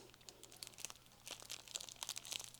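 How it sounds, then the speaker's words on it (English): Plastic bag crinkling as it is opened and cut off a fig cutting, soft close rustles and crackles in irregular bursts, quiet at first and growing busier toward the end. "Fig Pop and cut our bag off of it"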